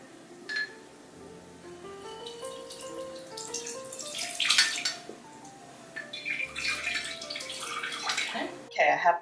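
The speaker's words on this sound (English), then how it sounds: "I'm going to rinse it with filtered water" Filtered water runs and splashes through a plastic strainer, a steady rinsing stream that swells louder near the middle and again toward the end, with some brief clatter.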